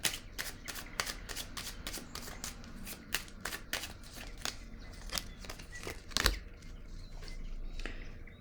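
Tarot cards riffle and snap as they are shuffled and dealt out, a close run of quick crisp slaps and flicks with one louder smack near the end, no voices.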